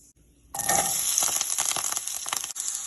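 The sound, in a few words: mustard seeds, curry leaves and onions frying in oil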